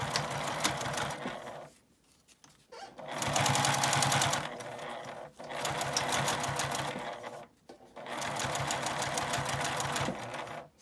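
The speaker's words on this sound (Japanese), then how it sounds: "半分に折って印から印のところまで縫います" A sewing machine stitches a folded tote bag strap in three sustained, close, busy runs of rapid stitching, separated by brief pauses.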